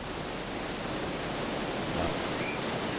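Great Falls waterfall in Auburn and Lewiston, Maine, gives off a steady, broad roar of rushing water that stays even throughout, with no voices.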